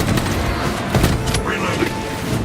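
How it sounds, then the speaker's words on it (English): Servo harness gun fire from Warhammer 40K: Space Marine 2, heard as dense, rapid volleys of loud gunfire and booming impacts that run steadily through the whole stretch of battle noise. "My servo harness gun will handle this."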